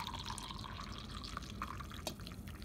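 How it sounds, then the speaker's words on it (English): Brewed coffee poured into a mug, a quiet, close trickling and dripping of liquid for a few seconds with a faint rising fill tone. "so let's pour it into"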